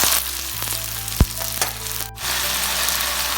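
Chopped tomatoes frying in a pan for pepper chicken give a steady, close sizzle with a few light stirring clicks and taps, and no one speaks.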